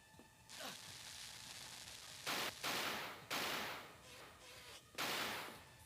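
Gunfire from the survival horror video game Alone in the Dark: The New Nightmare, several loud broadband shots in irregular bursts with short gaps, standing out over a steady background of game ambience.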